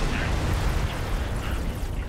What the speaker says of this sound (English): There you can see some of the fighters are going down in the explosion.